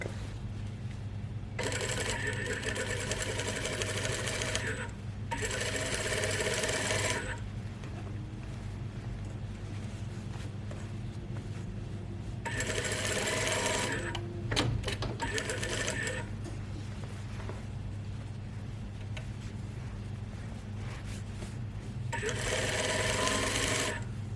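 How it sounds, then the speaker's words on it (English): Sewing machine stitching the front armhole seam of a lined overgarment, running in several bursts of rapid needle whirring separated by pauses, close and loud over a steady low background hum. "As I'm sewing, I'm turning the fabric that way, so it's easier for you to navigate that armhole."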